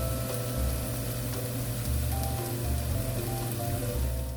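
Kimchi frying in a pan for kimchi fried rice gives off a dense, steady crackling sizzle, loud and close, with no break across the clip.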